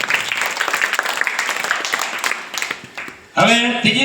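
A school Kala Mahotsav audience claps in a busy round of applause that thins out, then a voice comes in loudly over the end of it.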